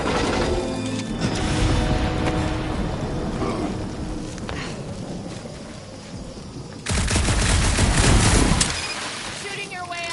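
Heavy bursts of gunfire and explosive blasts in the Guardians of the Galaxy video game, dense and loud throughout with a stronger barrage near the end, mixed with rumbling game effects.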